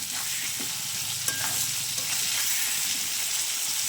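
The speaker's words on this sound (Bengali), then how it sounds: "কষাতে কষাতে আমার টমেটো ভাজা ভাজা হয়ে যাবে, কষানো হয়ে যাবে।" Tomatoes sautéed with salt and turmeric sizzle and fry steadily in a pan, with a constant hiss and occasional scraping stirs throughout, close and alone with no talk.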